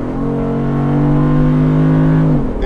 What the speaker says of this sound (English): watch how quick it revs up